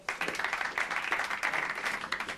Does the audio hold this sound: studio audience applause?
yes